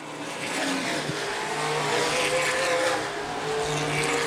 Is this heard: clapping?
no